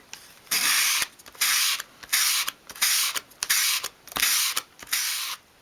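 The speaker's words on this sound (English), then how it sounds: "just tidy that piece up in your hand with a piece of fine grade sandpaper" Small wooden piece for a 1/12 scale dolls house bookcase rubbed by hand with fine grade sandpaper: about eight brisk, even scratchy strokes in a regular rhythm, close and clear with short pauses between.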